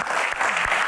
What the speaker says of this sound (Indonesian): Tepuk tangan buat box kepo.